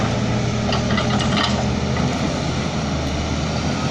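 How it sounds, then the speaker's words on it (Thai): A steady, loud diesel engine rumble of a ten-wheeler dump truck idling or running nearby at a digging site, continuous with no talking. "เสียงสิบล้อมาแล้วครับ"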